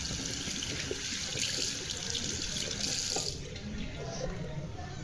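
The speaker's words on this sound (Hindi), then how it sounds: "हैंड वॉश कर लेते हैं।" A tap runs into a sink while hands are washed, a steady close hiss of flowing water that stops abruptly partway through, leaving a quieter trickle.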